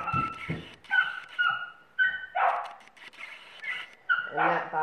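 A dog yips and barks in short, high-pitched bursts, several in a row, fairly near, with some whiny tones between.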